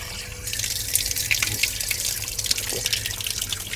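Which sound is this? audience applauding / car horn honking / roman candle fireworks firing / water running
water running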